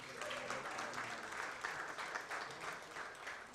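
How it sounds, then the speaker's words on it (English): An audience of fathers at a Johnnie Walker Blue Label father's-day event claps in a continuous, dense patter of applause, fairly distant and even in level. "I like the way the dads are clapping for themselves."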